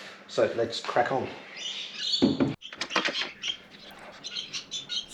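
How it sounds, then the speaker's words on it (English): Birds chirp and tweet in the background while someone talks over them close to the microphone. "Excuse the noisy birds in the background"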